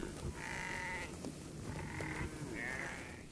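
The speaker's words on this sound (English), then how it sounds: "Farmers are now reintroducing the Red Maasai sheep and crossbreeding them with other sheep" Red Maasai sheep bleat three times in steady, drawn-out calls against a constant background hiss, with no talking.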